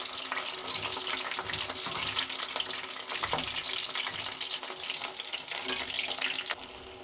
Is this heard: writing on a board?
no